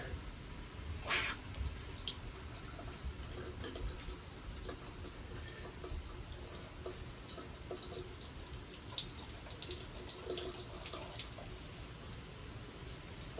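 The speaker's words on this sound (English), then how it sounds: "Turn the water back on." Water running from a tap in a house bathroom, a faint, steady splashing trickle with scattered drips throughout, heard alone without voices.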